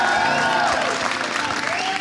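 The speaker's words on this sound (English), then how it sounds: "I want everybody to give a round of applause for Mr. Sowers" Applause from an audience at a Blue Collar Tour event at a welding academy in Dumas, Texas, honoring a welding instructor; loud, dense clapping mixed with crowd noise and voices, steady throughout.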